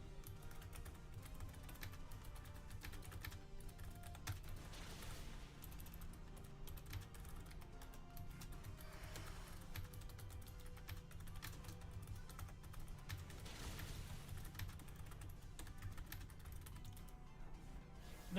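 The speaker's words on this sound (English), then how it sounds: "I'll start typing out the plan" Quiet, rapid clicking of a computer keyboard as a plan is typed out, a soft irregular patter of keystrokes continuing throughout with faint background hum.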